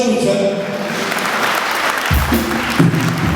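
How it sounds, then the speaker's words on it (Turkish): Audience applause at a campaign event distributing battery-powered vehicles to disabled people, steady clapping heard close and loud while a voice speaks over it. "Sayın Başkanımızı alkışlayalım lütfen."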